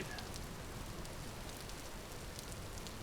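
Steady rain pouring in the survival game Vintage Story, a dense, even hiss of drops falling continuously with no pauses or voices.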